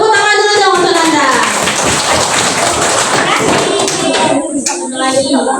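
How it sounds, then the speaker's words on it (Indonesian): An audience at a Ramadan Islamic boarding school talk breaks into dense, loud applause that holds steady for several seconds, with voices mixed in. "Tepuk tangan dulu dong untuk Anda."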